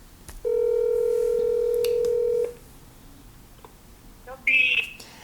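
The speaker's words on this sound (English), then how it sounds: "I'm gonna get my grandma Renae on the phone" A telephone dialed to place a call: a steady, loud tone hums for about two seconds, then after a pause a short burst of keypad tones sounds close by.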